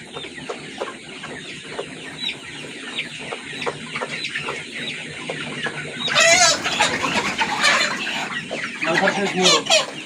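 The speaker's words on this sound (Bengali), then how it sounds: "দেখতে পাচ্ছেন আরো একটা মোরগ, এটা মোরগ" Roosters and hens of a colour bird chicken breed, handled while being weighed, cluck steadily throughout, growing louder and busier in the second half, with a person talking in between.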